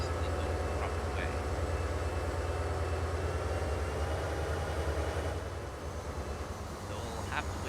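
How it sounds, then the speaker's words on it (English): A sugar cane freight train rolls along in Transport Fever 2 with a steady, low rumbling drone that holds evenly throughout at moderate loudness, with a faint higher whine on top. "So we'll have to wait until this train of the sugar cane gets clear."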